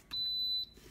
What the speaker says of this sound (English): The beeping just lets you know that the heat is going on so that you'll be careful.